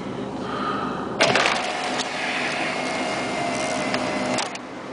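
An Oldsmobile's power sunroof moves with a steady motorized whir for several seconds inside the car, starting with a clunk and stopping with a soft thud.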